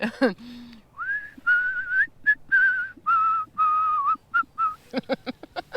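A single person whistles a melodic tune, sustained notes and a few quick trills, fairly close and clear with no talking.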